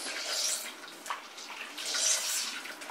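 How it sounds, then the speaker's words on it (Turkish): A makeup sponge (beautyblender) is squeezed and dunked in a bowl of water with detergent, giving repeated wet squishing and sloshing sounds with no talk. "Ve bu suyun içinde yine aynı hareketlerle sıkıyoruz."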